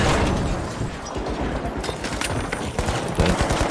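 Heavy gunfire in the shooter game The Finals, a loud, continuous close-range barrage of overlapping shots and blasts with no pauses.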